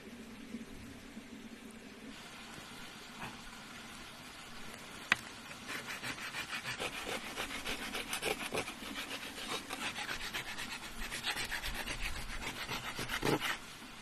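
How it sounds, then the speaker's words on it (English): The end of a fire-hardened wooden stick is rubbed against a rock outdoors in the desert wilderness, giving a steady, close rasping scrape that grows busier after a few seconds, with one sharp click midway. "After sanding the end on a rock,"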